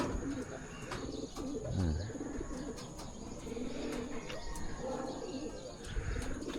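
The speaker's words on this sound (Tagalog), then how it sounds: "Yun yung mga kalapate natin." Young racing pigeons cooing in and around a loft, with soft repeated throaty coos and a few chirps over steady outdoor background noise, while someone talks quietly nearby.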